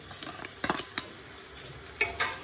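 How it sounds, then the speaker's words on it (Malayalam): A spoon stirs tomato, ginger, garlic and green chilli frying in a pan, with soft scrapes and a few sharp clinks over a faint sizzle, nearby and quiet, no talking. "2 മിനിറ്റ് ഒന്ന് ഇളക്കുക."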